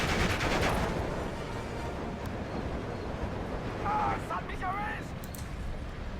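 Mortar and gunfire crackle in the Steel Division II strategy game as scattered, muffled bursts under people talking.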